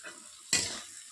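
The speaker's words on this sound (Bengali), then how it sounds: "উচ্ছে ভাজা চলছে" Bitter gourd hits a hot pan with a sudden loud sizzle burst midway, then a steady frying hiss tails off under faint utensil stirring.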